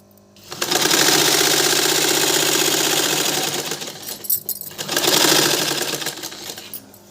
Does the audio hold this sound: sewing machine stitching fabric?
yes